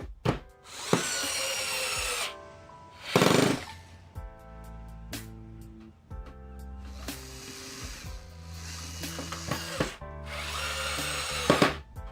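Power drill driving screws into a Nintendo GameCube console shell, several loud whirring bursts of a few seconds each, separated by short pauses and clicks of handling.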